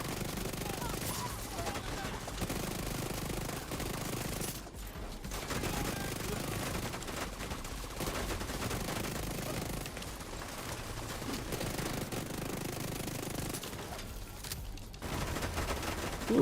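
Dense gunfire from the game The Division 2, with rapid automatic bursts and shots layered almost continuously. Two brief lulls break the firing, and a voice is faintly heard beneath the noise.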